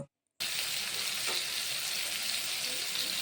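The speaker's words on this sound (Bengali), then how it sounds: "এই সর্ষের তেলের মধ্যে পটলটা আমি হালকা করে এইভাবে ফ্রাই করে নিচ্ছি" Pointed gourd fries in mustard oil, a dense, even sizzle that starts abruptly after a brief silence and holds steady, close and moderately loud, with no talking.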